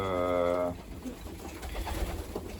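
A pigeon coos from nest boxes in a loft, one close, resonant, droning call lasting under a second, followed by faint background rustling.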